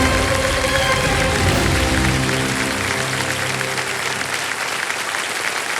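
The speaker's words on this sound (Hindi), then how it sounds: "तालियां बज जाए इनके लिए" Studio audience of a televised quiz show breaks into loud, sustained applause, a dense roar of clapping that holds throughout with a faint voice beneath early on.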